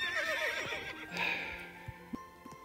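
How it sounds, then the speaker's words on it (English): A horse in the video game Horse Life gives a loud, wavering whinny that falls away, followed by a few soft clopping hoof thuds and faint background sounds. "can these people stop neighing their horse?"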